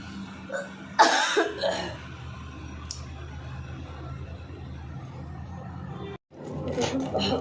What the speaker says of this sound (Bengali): আমার কাশি গলাটা পুরো ধরে গেছে আর কাশি হচ্ছে